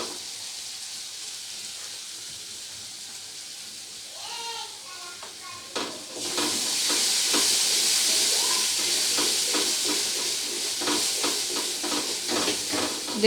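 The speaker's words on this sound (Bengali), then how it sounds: "এবারে খুব ভালোভাবে একটু 2 মিনিট ধরে এটাকে কষিয়ে নেব।" Spice paste with turmeric frying in hot oil for a rohu fish and tomato curry, a steady bright sizzle rising after a quiet start, with stirring clicks and a voice speaking over it.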